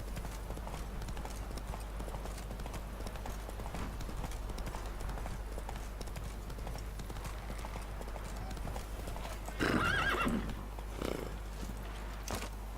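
The horse Roach in The Witcher 3 video game, hooves clip-clopping in a steady rhythm over a low rumbling background, with a louder burst of neighing or whinnying near the end.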